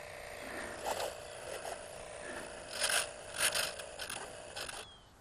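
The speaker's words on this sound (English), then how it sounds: "His elevator servo's making a weird noise, and he's at low voltage cutoff" Small UMX T-28 RC plane's elevator servo making a weird noise at low voltage cutoff: faint, repeated whirring and grinding buzzes in short bursts over steady background hiss.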